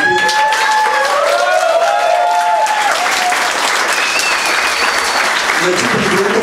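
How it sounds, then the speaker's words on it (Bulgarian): Wedding guests burst into loud, sustained applause for the bride, a dense wash of clapping from a close crowd with a few raised voices and whistles mixed in. "Едни аплодисменти."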